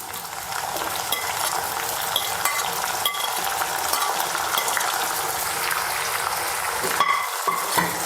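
Kanthari chilies fry in oil for gooseberry pickle, giving a steady close sizzle with stirring scrapes and a few sharp clinks.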